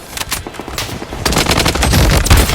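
Rapid automatic gunfire from a SCAR rifle in the shooter game Blood Strike, loud and close, with dense bursts that grow heavier toward the end.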